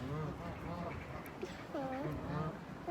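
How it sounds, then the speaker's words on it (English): A duck quacks repeatedly in short nasal bursts close by on an outdoor nature walk, with people talking quietly alongside. "That duck."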